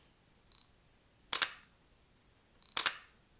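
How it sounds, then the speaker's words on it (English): Two crisp mechanical shutter clicks from a Canon EOS R camera, each opening and closing quickly, about a second and a half apart, each preceded by a faint electronic beep. "It's that shutter that's opening and closing."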